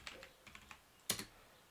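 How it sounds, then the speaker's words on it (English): Light, quiet keystrokes on a computer keyboard tap out a few irregular clicks, ending in a single sharper, louder key press, close and alone. "Then I'll type npm"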